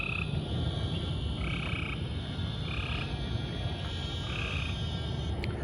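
A dense chorus of frogs giving end-of-summer mating calls at night, croaking continuously, with repeated pulsing trills rising above a steady background hum.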